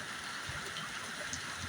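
Heavy rain coming down outdoors, a dense, even patter and hiss with no other sound.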